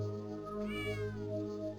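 A cat in the video game Bad Mojo lets out a single clear meow in the middle of the clip, heard over a steady low background hum.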